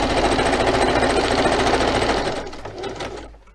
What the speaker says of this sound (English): Just a minute, I'm going to stitch.